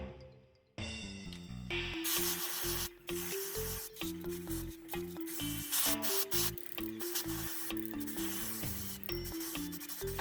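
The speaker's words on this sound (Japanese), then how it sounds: "食用の銀箔スプレーで塗装します。" Edible silver leaf spray paint sprayed from a can onto small stick-shaped gelatin pieces, giving short hissing bursts under steady background music.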